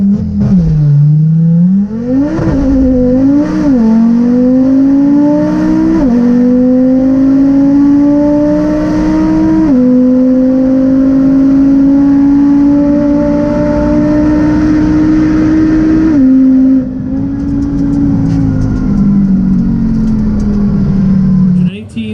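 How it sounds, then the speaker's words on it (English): A McLaren 600LT accelerates hard down a drag strip, its engine roaring loud and close through rising, shifting pitch sweeps with brief gear-change dips, while people talk over it. "George is going to be racing this McLaren 600 LT. I don't know what it's going to do, but it sounds mean"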